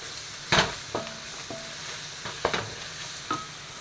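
Crushed garlic, ginger and green chili fry in a pan, with a low steady sizzle broken by several sharp clinks and scrapes of a spoon stirring against the metal.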